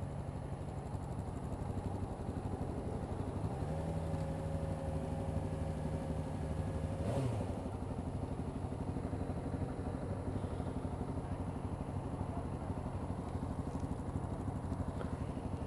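A Yamaha FZ6R motorcycle engine idles steadily, a low, even, continuous rumble heard at a modest level from nearby with no talking.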